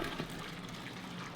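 Water from a 2.5-gallon bucket poured in for homemade laundry detergent, a steady rushing gush close by with no talk over it.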